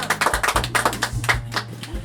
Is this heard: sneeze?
no